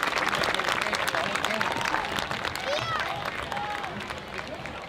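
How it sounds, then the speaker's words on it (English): A high school football crowd on the home sideline gives a round of applause for an injured player. The clapping blends into a broad, steady wash from the stands, with crowd murmur and some voices mixed in. "they give Seth Harms a nice round of applause"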